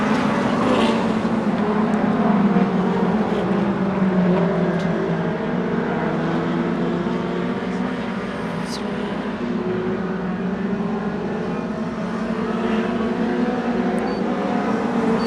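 Several race cars lap a short track in a steady engine roar, revving and passing at mid distance throughout.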